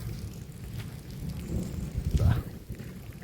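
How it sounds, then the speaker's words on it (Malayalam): Steady rain falls during a thunderstorm. A low thunder rumble swells through the middle of the stretch and then fades back into the constant patter. "ഇതാ ഇടി ഇപ്പോഴും പൊട്ടുന്നുണ്ട്."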